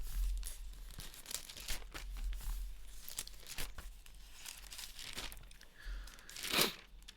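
Thin Bible pages are flipped toward Genesis, producing soft, quiet crinkling rustles in scattered bursts, with a louder sweep of paper near the end and no talking over it.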